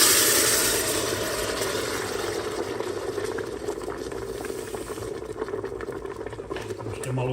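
Liquid poured over seared beef in a pressure cooker, a steady bubbling, sizzling pour that fills the whole stretch at close range, easing slightly toward the end.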